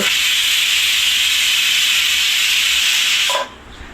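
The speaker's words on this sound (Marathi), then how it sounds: "हांगा पळय बटाटा तो कुकरान शिजयतस" Steady, loud hiss of steam escaping a pressure cooker as potatoes cook on a home stove, a continuous rushing sound that cuts off abruptly near the end, leaving a quiet room.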